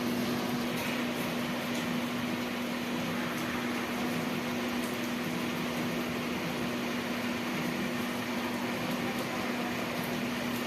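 A steady, dense hiss of heavy rain pours without pause, with a constant low hum running underneath.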